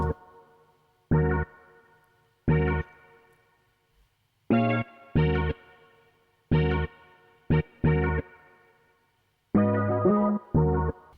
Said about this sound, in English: Adding some reverb.